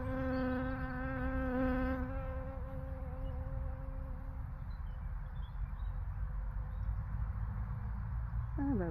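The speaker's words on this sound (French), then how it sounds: "j'ai une copine abeille qui est venue s'installer sur moi." A close, steady bee buzz hums continuously, shifting slightly in pitch as it hovers, with a faint outdoor background behind it.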